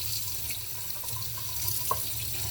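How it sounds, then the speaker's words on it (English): Kitchen tap water runs steadily into a sink while kale is washed under it, a constant close hiss and splash with a few faint drips and no voices. "I'm going to go ahead and turn the water off"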